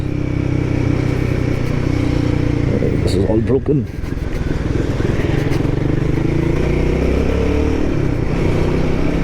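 A Royal Enfield Guerrilla 450 motorcycle rides a rough, broken mountain road, its engine a steady, loud drone with wind rush, and a brief shift in pitch midway; a rider speaks briefly over it.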